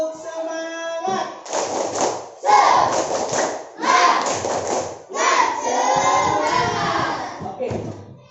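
Schoolchildren in a classroom do a rhythmic spirit clap. They clap in four loud bursts of patterned claps, and shouted voices are mixed into the clapping. An adult voice speaks briefly at the start.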